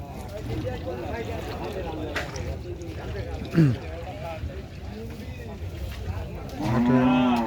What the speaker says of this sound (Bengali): প্রচুর গরু